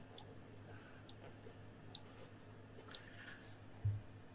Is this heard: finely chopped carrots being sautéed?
no